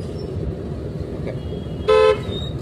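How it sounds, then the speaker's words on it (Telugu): One short, loud car horn toot sounds close by over steady engine and road noise inside a moving car during a driving lesson. "కొంచెం బ్రేక్, హార్న్ వాడండి."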